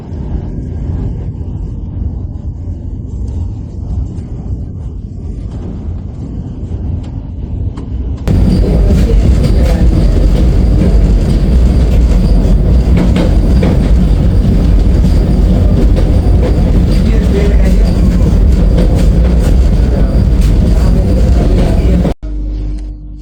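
A Vande Bharat Express on the Jogbani–Danapur route runs on rails with a loud, continuous rumble and rattle that swells into a harsher roar midway, then cuts off abruptly near the end.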